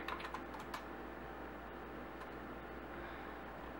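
Computer keyboard typing a fastboot OEM unlock command for rooting a Nexus Player, a steady run of quick light key clicks over a constant low hum, close and moderately quiet with no voices.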